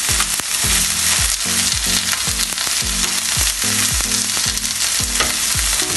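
Chicken with mushrooms and green onion stir-fried in a wok: a loud, steady sizzle with rhythmic scraping strokes of the spatula, repeating about twice a second, close up with no talk.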